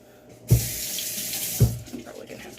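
A tap running into a sink while fingers are rinsed during hair bleaching, with a steady hiss of water and two thuds as the hands move under the stream.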